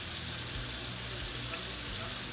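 Seasoned chicken pieces fry in a pan, giving a dense, steady, close sizzle that holds evenly the whole time with no talk.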